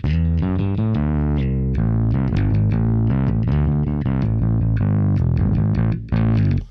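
Electric guitar run through a modular pedalboard's distortion and overdrive preset, gritty sustained chords and notes played continuously and loud, with a brief drop near the end.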